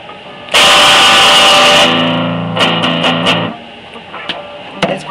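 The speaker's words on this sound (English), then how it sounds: "That's palm muting." An out-of-tune electric guitar in drop D plays a song: a bright, noisy strum burst, then short, choppy palm-muted strums and a few isolated muted hits, close and solo without talking.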